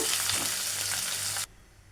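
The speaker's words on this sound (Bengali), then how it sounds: "এবার এই কপিগুলোকে আমি একটু ফ্রাই করে নেব" Cauliflower florets frying in oil in a pan make a loud, close, crackling sizzle with faint stirring, which cuts off abruptly partway through, leaving near silence.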